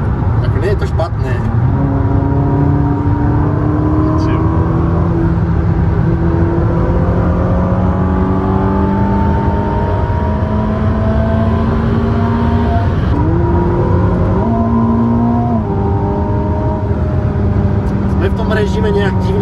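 A Ferrari SF90 hybrid engine, 1000 horsepower, climbs through repeated rising revs with abrupt gear shifts between them, loud and close throughout, with a voice talking over it.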